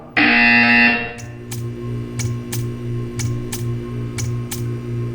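A loud electronic buzzer tone from Portal 2 sounds for about a second, followed by a series of sharp, evenly spaced ticking clicks over a low steady hum.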